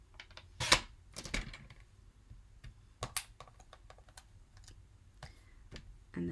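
Sharp clicking and snapping of a paper trimmer blade, a few distinct cuts with quiet handling noises in between, close and fairly crisp.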